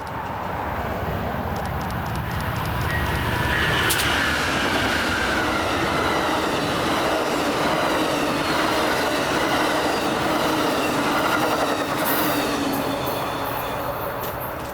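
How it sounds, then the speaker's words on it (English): An Amtrak passenger train passes close by, a loud steady rumble of wheels and rail clatter lasting throughout, with brief high squeals and a horn-like tone rising over the roar. "here comes Amtrak 5."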